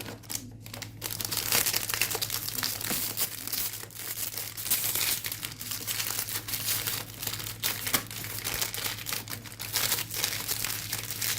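Close, steady crinkling and tearing of a plastic wrapper as a chocolate-filled biscuit pack is opened, with continuous rustling running throughout.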